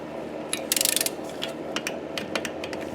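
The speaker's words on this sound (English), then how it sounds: "So we'll set the torque wrench to 120." Ratcheting torque wrench tightening crankshaft bolts to 120 on a scavenged Briggs engine, a quick run of close metallic clicks followed by scattered lighter ticks.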